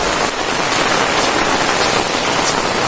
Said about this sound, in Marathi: खूप पाऊस पडतोय आपल्याकडे बघा